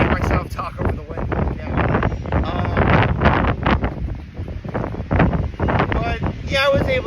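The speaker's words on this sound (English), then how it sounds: "I can't hear myself talk over the wind." Strong wind roars outdoors across an open spot, gusting loudly and continuously over the microphone, with a person talking under it now and then.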